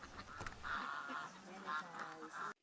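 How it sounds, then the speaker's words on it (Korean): Ducks and geese in a village side yard during light snow give nasal quacks and honks, while a voice narrates over them nearby. "시골집 옆마당에선 오리와 거위들이 여유작작하게 논판을 거닙니다."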